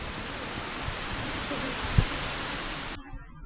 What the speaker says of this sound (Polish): Największy wodospad Chorwacji, 87 metrów od dołu licząc.